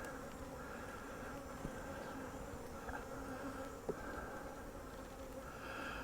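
Honeybees in an opened hive colony make a low, steady droning buzz throughout, faint and even, with a couple of small soft knocks against the drone and no talk.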